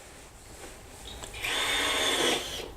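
Handheld electric planer mounted in a homemade box, a brief click before the motor spins up into a bright whirring buzz for about a second, then begins to wind down.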